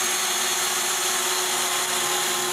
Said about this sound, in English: With the saw down, I can drill the remaining 2 holes.